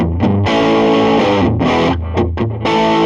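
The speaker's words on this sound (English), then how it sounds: "I'm going to use the Analog Man King of Tone for this." An electric guitar plays a passage through an Analog Man King of Tone overdrive pushing a valve amp, giving loud sustained crunchy chords and notes with brief gaps and no talking.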